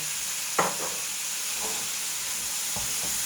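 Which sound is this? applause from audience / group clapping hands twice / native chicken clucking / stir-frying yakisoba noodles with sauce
stir-frying yakisoba noodles with sauce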